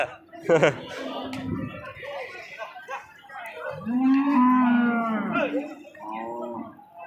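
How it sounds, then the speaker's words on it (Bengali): Bulls at a cattle market give a deep, drawn-out moo near the middle, with shorter lowing calls around it, close by amid people talking and general crowd bustle. "ষাঁড় গরু রয়েছে এখানে।"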